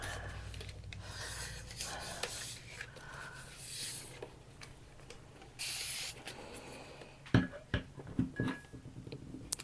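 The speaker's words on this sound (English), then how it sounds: "I'm going to give underneath here a little spray to keep the paper from moving on me so much." An artist sprays water underneath paper while working with acrylic paint, giving several short, close hissing bursts with quiet rubbing and handling sounds in between.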